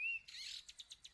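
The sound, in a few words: birdsong in a breeze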